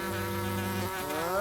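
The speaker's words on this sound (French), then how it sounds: "Non, ça, c'est une mouche." A housefly buzzes loudly and close by, a steady whining drone whose pitch wavers and rises toward the end, with no voices over it.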